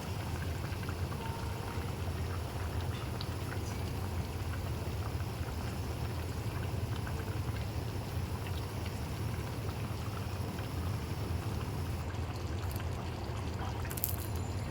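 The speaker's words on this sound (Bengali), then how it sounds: "দেখো এরকম টক বক করে যখন ফুটছে" Potato dal with eggs added boils steadily in a pot, giving a continuous soft bubbling and seething hiss throughout, faint and even, with no talking.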